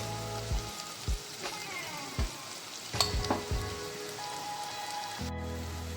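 Ground dried Bombay duck fish fries with onion and spices in a hot pan, a steady close sizzle broken by several sharp spatula knocks and scrapes as it is stirred.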